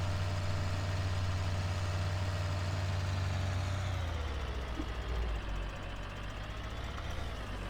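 A tractor engine in Farming Simulator 2013 idles while unloading, giving a steady low rumble with a continuous hum. The pitch shifts slightly partway through, and the sound is fairly even and unaccompanied by voices.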